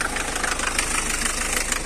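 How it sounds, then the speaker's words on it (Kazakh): A 1996 Mercedes 210 with a TD diesel engine running at idle, heard up close as a steady, even knocking clatter with constant vibration and no voices over it. "ал дизель экен, точно дизель экен тугандар мына. Жүрүшүн бир көрбөйсүздарбы?"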